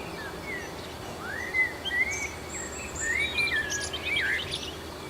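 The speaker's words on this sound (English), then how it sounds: "opening my eyes in the morning and listening to the birds whistle outside" Several birds whistle and chirp outside in the morning, giving bright rising and falling calls that come in bursts over a steady low background hiss, with no voices.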